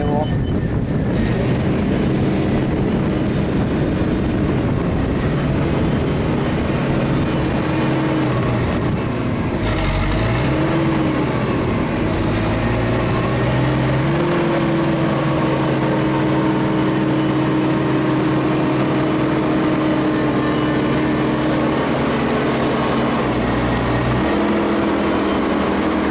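A JLG lift's engine runs with a steady low rumble as the machine is slowly driven, with shifting tones as the drive engages, close and continuous, with speech and wind noise at times.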